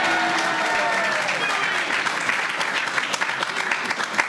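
A crowd at an outdoor seawall announcement applauds a former assembly member, with steady, dense clapping throughout that grows slightly more uneven toward the end.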